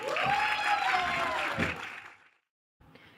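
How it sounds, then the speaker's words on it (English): A theatre crowd at a poetry reading in San Jose's Hammer Theatre claps steadily, with a voice speaking over it at first. The applause thins and fades out after about two seconds, then a faint sound returns at the end. "keep those applause going for Arlene Biala."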